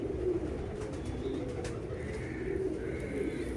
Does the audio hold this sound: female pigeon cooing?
yes